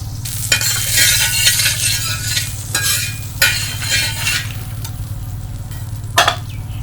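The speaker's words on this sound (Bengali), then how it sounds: "আমি বাটার দিয়ে একটু ভাজবো।" Butter sizzles in a hot pan as it melts for frying aloo kulcha, with a steady close crackle broken by a few sharp clinks and scrapes of stirring.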